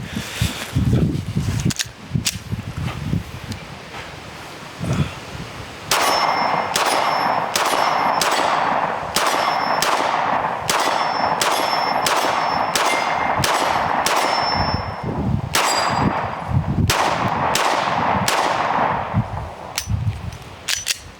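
Pistol and pistol-caliber carbine shots at an outdoor range, many sharp cracks in quick irregular strings each followed by a ringing metallic clang from steel targets, loud and close with brief pauses between volleys.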